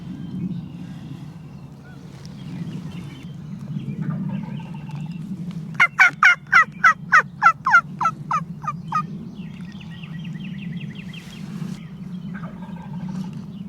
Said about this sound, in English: I'm gonna let him gobble like twice